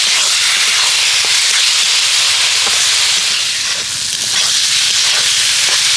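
Deboned loitta (Bombay duck) fish sautéing in a pan gives a steady, loud hiss and sizzle that runs unbroken throughout, with faint clicks from stirring.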